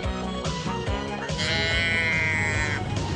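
A cow-moo toy box gives a wavering, bleat-like mooing tone that rises and holds for a couple of seconds, loud and close, with a few brief knocks at the start.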